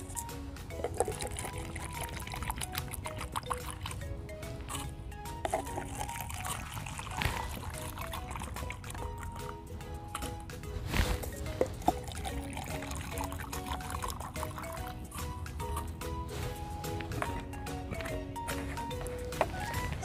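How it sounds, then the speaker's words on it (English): Vinegar is poured into cups tinted with food coloring, a soft continuous trickle close by under steady outdoor background noise, with no clear talking. "and I put vinegar inside."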